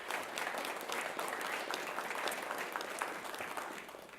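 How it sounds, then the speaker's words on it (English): A school board meeting audience gives a round of applause, a dense, even wash of clapping that holds steady from start to finish before easing slightly at the end. "If we can give them a round of applause."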